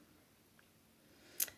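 Paper being trimmed for a handmade tea-themed card, heard as one quiet, brief snip or slice near the end of an otherwise hushed moment, close by and alone without talk.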